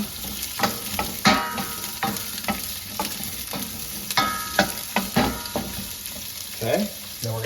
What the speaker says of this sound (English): start with our onions and peppers. Stir these around.